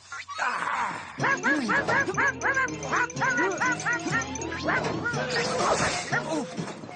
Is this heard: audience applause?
no